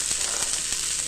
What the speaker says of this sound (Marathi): जिऱ्याची फोडणी द्यायची, थोडी मिरे आणि तेजपत्ता टाकायचा, आणि हे वाटाणा टाकायचं.